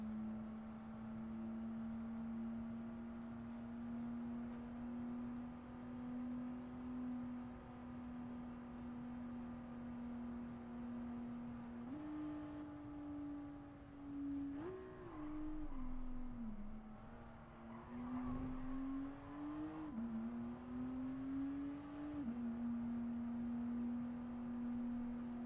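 A race car engine in a Le Mans 24-hour racing game holds a steady, buzzing drone under throttle, with brief pitch jumps and dips as it shifts and eases off, loud and continuous with no talk.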